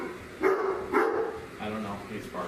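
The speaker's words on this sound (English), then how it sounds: "Just a random bark from my dog." A pet dog barks a few times, sharp woofs spaced about half a second apart at moderate distance, over a quiet indoor room with a low voice murmuring beneath.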